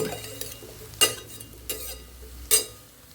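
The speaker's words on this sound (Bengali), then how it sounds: "এবার আমি এর মধ্যে দুধ, খোয়া যেগুলো আছে বাকি সব কিছু মিশিয়ে দেব।" A spoon scrapes and knocks against a pan while milk and khoya are stirred into pumpkin halwa with semolina, giving three distinct metallic clinks over a quiet low background.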